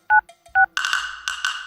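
Touch-tone keypad beeps as a phone number is dialed: two short paired tones, a faint blip, then a rising buzzy tone that pulses twice, close and loud with no talking.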